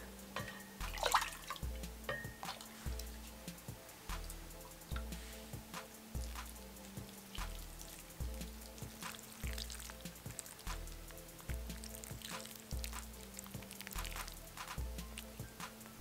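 Sugar-water syrup poured over a tray of traditional Turkish baklava crackles and sizzles continuously with scattered ticks, heard close, while a repeating low musical beat plays in the background.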